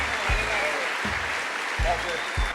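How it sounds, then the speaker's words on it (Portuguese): Audience applause in a studio show setting, a broad steady wash of clapping filling the whole short stretch, with low thumps recurring underneath. "Palmas aqui pro Bibi, que participou do Facebook."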